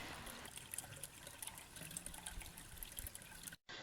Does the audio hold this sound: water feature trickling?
yes